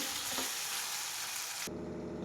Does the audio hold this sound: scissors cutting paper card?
no